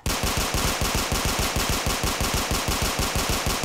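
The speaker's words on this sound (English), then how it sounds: "as fast as I tap the trigger, one round comes out" Rapid semi-automatic fire from an M16A2 surplus rifle in Fallout 4, a steady stream of sharp, loud shots roughly six to seven per second with no pauses and no talking.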